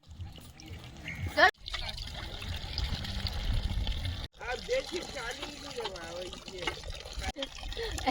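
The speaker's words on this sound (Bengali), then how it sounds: "একদম হালকা ভাবে চাপলে জল পড়ছে" Water flows and splashes from a newly installed tubewell hand pump, worked with light presses, in a steady low trickle broken by brief pauses. People talk over the sound throughout.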